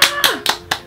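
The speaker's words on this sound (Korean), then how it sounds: "박수." A couple claps together the day after their outdoor self-run wedding, giving four sharp, close hand claps in quick succession, with a brief voiced sound between them.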